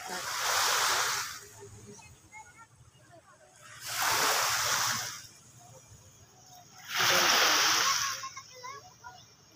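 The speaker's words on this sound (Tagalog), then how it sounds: "Ang daming may naliligo." Three surges of splashing water from many people bathing in the sea rise and fall at regular intervals, with quieter stretches and faint distant voices between them.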